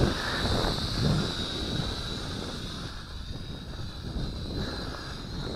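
A Syma X5C quadcopter drone flies in a breeze, its steady high-pitched rotor whine sounding at a distance under heavy wind buffeting on the microphone.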